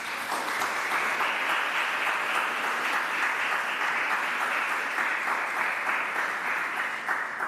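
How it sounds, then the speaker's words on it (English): Sustained audience applause at the investiture ceremony for the Poet Laureate of Jamaica, a dense, even clapping that holds steady and fairly loud throughout with no voices over it. "I would ask you and invite you to applaud them"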